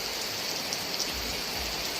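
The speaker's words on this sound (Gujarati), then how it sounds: "आज खूबज वरसाद पड़ रो" Heavy rain pours on the village of Moti Kathechi, Gujarat, in a dense, steady hiss that never lets up, with a faint low rumble underneath. No voices can be heard.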